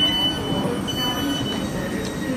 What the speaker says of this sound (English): About a 10-minute train ride on this Thames Link train